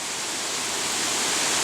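Heavy rain pours outside during Hurricane Irene, a dense, steady hiss that fills the short stretch evenly and stays strong throughout.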